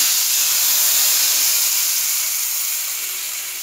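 Tempering (popu) sizzles as it is poured into tomato rasam, giving a loud, steady hiss of steam and spatter that fades slightly toward the end, with no voices.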